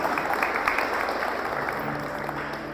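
An audience claps steadily during a church sermon for a Folia de Roça service team, a moderate, continuous applause with no voices over it.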